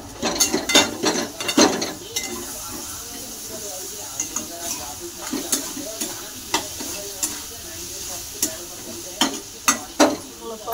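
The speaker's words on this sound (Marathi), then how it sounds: "त्याला हळद चवीनुसार मीठ टाकून घेतला, त्याला मस्त परतून घेऊ" Turmeric and salt being sautéed in a pan, with a spoon stirring and scraping at an uneven rhythm, sharp metallic clinks punctuating a steady close-up sizzle.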